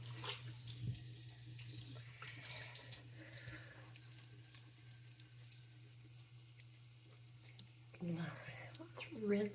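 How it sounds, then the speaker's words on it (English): Tap water runs steadily into a sink while face cleanser is rinsed off, a constant close faucet stream with some splashing near the end. "Let's rinse it all off."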